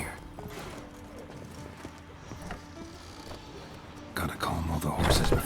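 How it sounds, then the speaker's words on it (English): Horses stirring in a stable in The Witcher 3, with hoof clip-clops and shuffling under game music and ambience, growing louder and busier near the end. "Gotta calm all the horses before they wake the guards."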